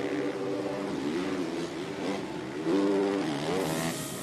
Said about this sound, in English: Full rev limiter in the air before he puts that power back to the ground